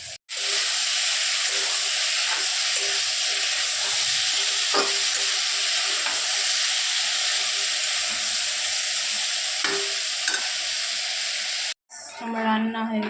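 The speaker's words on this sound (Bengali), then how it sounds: "এই যে দেখো সোয়াবিনগুলো ভেজে নিয়েছি।" Soybeans frying in a pan give a steady, loud sizzle and hiss that runs unbroken for nearly twelve seconds, with faint stirring clicks underneath, then cuts out abruptly just before the end.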